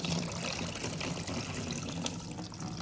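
Coolant flowing and trickling out of a GSXR 1000 motorcycle engine during a flush, a steady close splashing stream that runs alone without pause.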